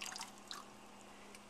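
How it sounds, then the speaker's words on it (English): A small splash of white vinegar is poured into a pot of water heating on the stove for poaching eggs, heard as a faint, brief trickle and a few soft drips, quiet and close. "add a little bit of white vinegar"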